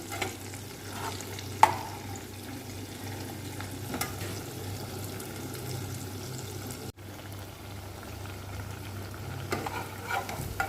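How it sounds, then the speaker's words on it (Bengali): Sweet potato malpua batter fries in a pan, a steady low sizzle with a persistent hum beneath, broken by a sharp click and occasional soft utensil touches, with no talking. "এভাবে একটু একটু করে সবগুলো ভাজবো"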